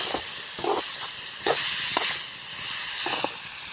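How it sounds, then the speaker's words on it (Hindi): Spices fry in oil in a kadhai while cooking a radish-greens sabzi, giving a steady close sizzling hiss with occasional soft stirring clatters. "मसालों को भी अब 1 से 2 मिनट तक अच्छे से भून लेंगे।"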